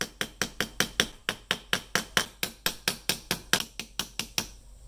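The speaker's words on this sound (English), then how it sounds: "But I like the control that this smaller hammer offers." A small hammer taps metal on a Victorinox Cadet pocket knife in an even series of about twenty sharp, close strikes roughly a quarter second apart.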